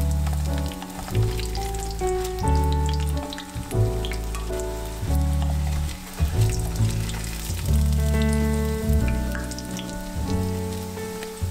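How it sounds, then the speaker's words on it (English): Breaded tofu katsu cutlets with panko crust frying in hot oil, a steady close sizzle and crackle running throughout, with a layer of music playing over it. "add in your katsu to be fried"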